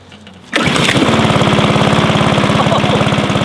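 A petrol lawn mower with a pull-start cord fires up abruptly after a short quiet lead-in, then runs loud and close with a steady, rapid chugging drone that continues unbroken.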